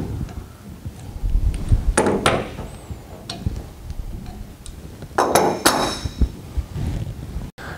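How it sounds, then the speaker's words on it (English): A torque wrench tightening a gland on a pressure test cube to 25 foot-pounds, heard as sharp metallic clanks and clicks in two clusters with quieter handling noise between them. "put the torque wrench on the gland and tighten that to 25 foot-pounds"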